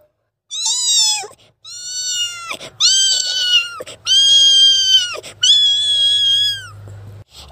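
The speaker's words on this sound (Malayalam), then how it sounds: "അടുത്തതായി നമുക്കൊരു പൂച്ചയുടെ ശബ്ദം കേട്ടാലോ." A cat meows five times in a row, loud and close, each cry long and drawn out with short pauses between.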